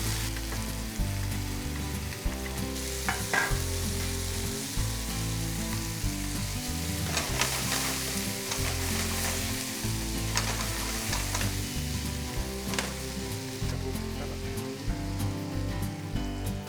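Eggplant fries in oil for a green curry, softening and browning. A dense, rain-like sizzle continues throughout with occasional stirring scrapes, close and steady, while music plays quietly in the background.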